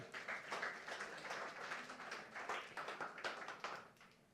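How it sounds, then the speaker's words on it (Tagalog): A church congregation claps together for the Lord, a dense, steady patter of many hands at moderate distance with rhythmic bursts, no voices over it. "Lahat po pumalakpak para kay Lord."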